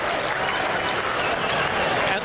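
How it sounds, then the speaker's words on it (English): A large racetrack crowd applauds and cheers continuously for the racehorse Zenyatta returning to the winner's circle, a dense wash of clapping and roaring voices that stays loud throughout. "getting an astounding round of applause here"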